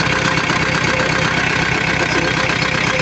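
Steady, loud running of a Cat 422E backhoe loader engine, a continuous even drone with no breaks, heard close up with no voices.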